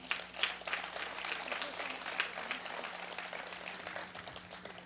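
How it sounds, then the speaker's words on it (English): An audience at the Oceanside civic center applauds in a steady, dense wash of clapping, with some voices murmuring underneath throughout. "the people of the city of Oceanside owe her a big round of applause"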